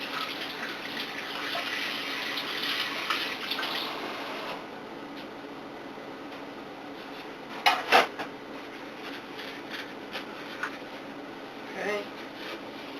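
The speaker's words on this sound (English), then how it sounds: "let me rinse this out" Kitchen tap water running while something is rinsed out, a steady hiss that stops partway through, followed by a few close clanks and knocks of handling.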